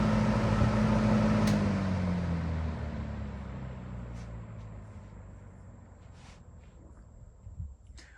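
A Holmes box fan is switched off and its blades wind down. A loud whooshing drone gradually fades and drops in pitch over several seconds until only a faint residual hum remains.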